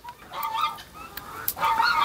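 Farm hens cluck near their nesting area, giving several close, irregular bursts of clucking and short squawks over a quiet background, with no speech.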